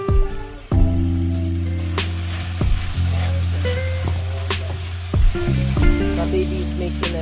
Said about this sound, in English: Because it's a quick stir fry, I've got oil here.